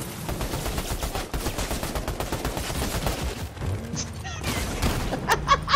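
Dense, chaotic video game gunfire with overlapping bursts and booms throughout a hectic firefight against a huge crowd of enemies, loud and continuous with no clear gaps.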